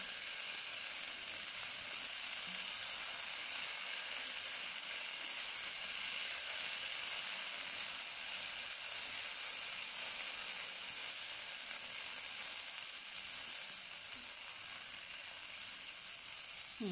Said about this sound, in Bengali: প্যানে একটু সরিষার তেল দিলাম এখন ওই সিদ্ধ বটবটিটা আমি একটু সতে করে নিচ্ছি